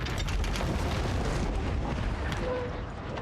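A trebuchet projectile strikes in the medieval game Kingdom Come Deliverance 2, a loud, sustained rumbling boom that fills the whole clip and fades slightly at the end.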